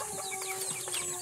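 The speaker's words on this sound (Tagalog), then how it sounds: "Ang among mga manok." Pet chickens cluck softly in a brief, busy mix of calls, fairly close, over a faint steady background hum.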